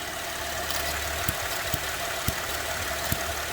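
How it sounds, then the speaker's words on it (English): Chevrolet Traverse engine running with its evaporative purge valve stuck open and the purge tube pulled off, giving a steady mechanical hum with faint irregular ticks and knocks throughout, heard close with no talking. "that purge valve right there is stuck open"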